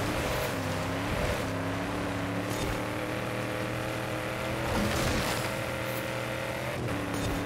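A car engine held at full throttle in Forza Horizon 5, a steady droning roar with layered rising tones and a few gear-shift dips, continuous and close throughout without talk.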